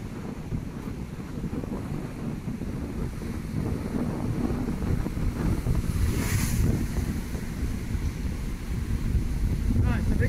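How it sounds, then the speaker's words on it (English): Choppy sea waves at Margate pier, a steady wash of surf and water churn mixed with heavy wind buffeting on the microphone, loud and continuous throughout. "Water is nice and serious. I love the choppy water."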